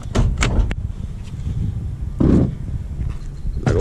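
Hood of an old Chevy truck being opened, giving several clunks and latch clicks near the start, another solid thud midway and a final knock at the end, with no talking.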